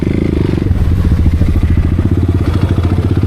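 A 300cc motorcycle pops a wheelie, its engine loud and close with a steady, throbbing single-cylinder rumble that rises slightly in pitch as it pulls.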